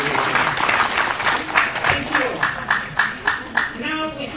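A class applauds its teacher indoors, a lively burst of clapping with distinct slaps repeating through the room, then thinning toward the end while faint voices murmur underneath.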